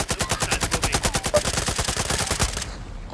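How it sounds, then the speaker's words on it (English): Rapid automatic gunfire from a Call of Duty match, a steady close burst of evenly spaced shots lasting about two and a half seconds before cutting off into a short tail. "I was just shooting the X's on the brick plates"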